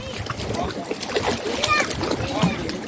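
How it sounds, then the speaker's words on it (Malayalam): Water splashing and sloshing close by in steady bursts as feet dip into Vembanad Lake, with several people chatting and calling out over it. "കുറച്ച് നേരം വെള്ളത്തിൽ കാലിടാം"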